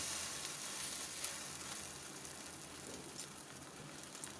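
An egg paratha fries in a pan with a steady, soft, even sizzle throughout, heard alone and without talk.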